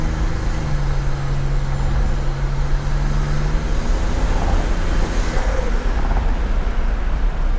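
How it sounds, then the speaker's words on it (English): A 1987 Buick Grand National with a turbocharged engine drives steadily, a continuous loud road rumble with a brief whining turbo tone early on and a firm gear change, with no talk. "Listen to that turbo, that shifts nice and firm too."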